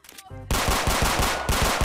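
Rapid bursts of automatic gunfire ring out in a Roblox game, loud and continuous after a brief pause, with about seven sharp shots in steady rhythm and no talk over them.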